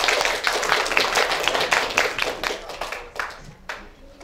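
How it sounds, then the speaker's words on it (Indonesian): An audience applauds the student debate teams at a university debate event, a dense burst of clapping that gradually thins out and trails off into scattered claps. "saya minta tepuk tangannya terlebih dahulu untuk tim debat kali ini"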